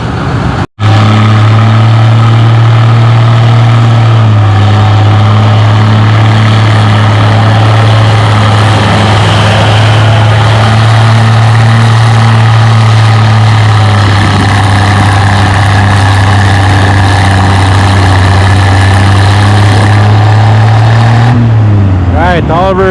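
An Oliver 77 tractor engine runs under heavy load at a tractor pull, a loud, steady low drone with a strong harmonic hum that holds for about twenty seconds before cutting off, with voices faintly underneath.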